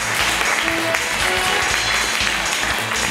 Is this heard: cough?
no